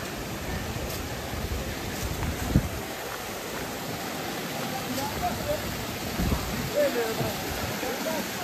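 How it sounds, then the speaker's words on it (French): A steady, broad rush of falling water from distant waterfalls sounds continuous and even, with faint wind noise mixed in, outdoors in meadows at a bull-running festival in Quissac, France. "Ah oui, les cascades au fond."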